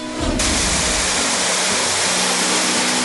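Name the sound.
Kilab-Kilab Falls waterfall in San Isidro, Bohol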